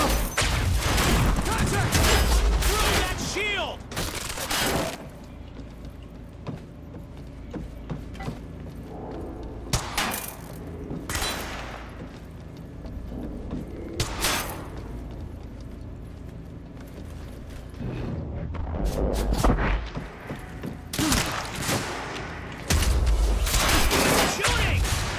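Sustained gunfire from a Quantum Break firefight, loud bursts and volleys recurring across the clip with dense mechanical clatter and booms, soldiers' shouted voices mixed in underneath.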